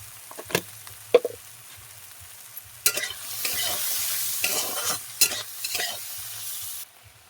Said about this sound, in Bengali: চিমড়িগুলো ভেজে নেব